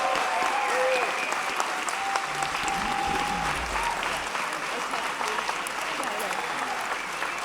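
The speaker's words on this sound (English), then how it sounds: "give them a big round of applause" At a Cosmic Mass, a congregation gives a band sustained applause, a dense field of clapping that continues evenly throughout.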